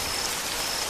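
Steady rain falling on surfaces in a horror story scene, a dense continuous patter of drops with no voices over it.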